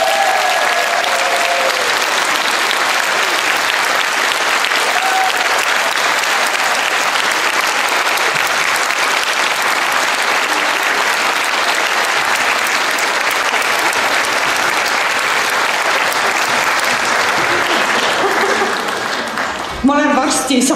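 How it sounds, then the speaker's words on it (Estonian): Sustained audience applause at a kindergarten spring party, a dense, steady clapping from a large crowd lasting about twenty seconds before tapering off at the end. "me soovime südamest katkematu aplausiga tänada meie tänase kevadpeo lavastajat Külli Mõtslet."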